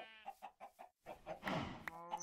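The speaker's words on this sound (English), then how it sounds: "I need to check on my chickens" Minecraft chickens clucking in a short series of evenly spaced, fairly close calls, followed by a busier patch of game sound with a couple more clucks at the end.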